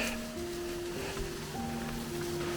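A rushing mountain stream near waterfalls in a gorge gives a steady broadband roar of flowing water, close and constant, with faint tonal hums over it and no talk.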